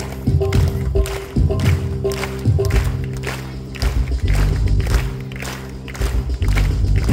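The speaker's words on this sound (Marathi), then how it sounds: "टाळ्या वाजूया." A church congregation claps hands in steady rhythm along with loud worship music and singing, the claps blending into the dense beat throughout.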